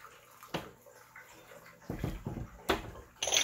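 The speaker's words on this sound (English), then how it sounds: "Rinse some of the stuff with hot water first." Hot water poured over tea leaves and teaware to rinse them, a few short splashing pours and trickles separated by quiet gaps, close by with faint clinks.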